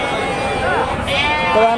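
Young sheep, three to four months old, bleat amid a busy livestock market, with voices talking over the animals throughout.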